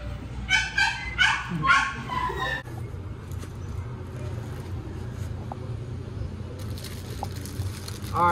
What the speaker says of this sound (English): That's a cute doggy.